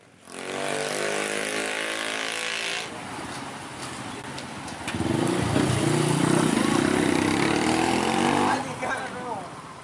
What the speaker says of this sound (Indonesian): Pengendara motor tancap gas saat akan diberhentikan petugas.